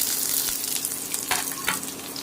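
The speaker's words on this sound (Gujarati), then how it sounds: "એકદમ બ્લેક થાય કાંદા ત્યાં સુધી આપણે સાતળવાના છે તેલની અંદર" Onions and garlic frying in oil, a dense, continuous sizzle with a few soft stirring knocks and scrapes, close and even in level, no speech.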